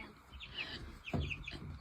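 Chickens clucking and chirping inside a roomy A-frame coop on a family farm, short overlapping calls from a small flock at moderate distance over a low background rumble.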